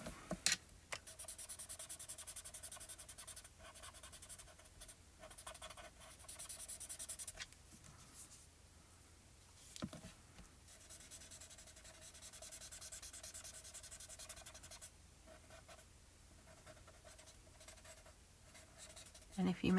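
Colour pencils scratch and rub across paper in a steady, close run of strokes that goes on for long stretches, broken by brief pauses.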